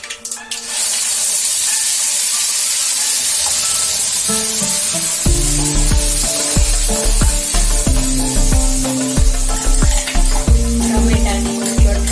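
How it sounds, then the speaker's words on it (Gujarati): Chutney tempered in hot oil gives a loud, continuous spraying sizzle from the start, with a music beat entering partway through and playing under the hiss. "હવે આપણે વઘાર કરશું ચટણીનો"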